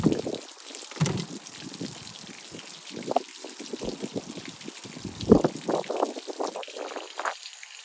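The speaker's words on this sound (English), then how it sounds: "12-gallon water heater over here, and that takes a little bit of time to actually drain" Water drains from an RV's 12-gallon water heater in an uneven gurgling, splashing flow, close by and moderately loud, with bubbling bursts and no talking.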